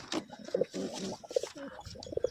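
Pigeons being flown: soft, repeated throaty coos and low bird calls come close and fairly loud, scattered in short bursts across the moment with muffled rustling between them, no talk.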